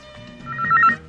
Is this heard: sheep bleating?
no